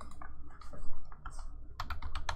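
Someone types a Google search query on a computer keyboard, starting with scattered taps and ending in a fast burst of close, crisp keystrokes, with no talking.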